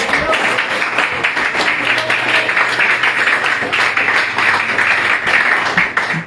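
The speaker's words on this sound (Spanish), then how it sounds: "Demos un aplauso al Señor." Congregation at a Spanish-language church service applauding in praise, a loud, dense and steady wash of many hands clapping that carries on for several seconds with a low hum beneath it.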